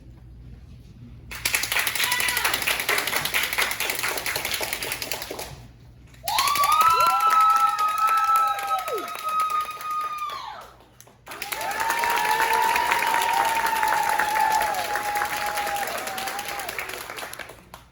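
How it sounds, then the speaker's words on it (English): An audience at a bake-off applauds in three separate bursts, one for each cake, with cheering and whoops riding over the middle and last rounds, and brief pauses between them. "we will let you applaud for the cake you think should be the winner"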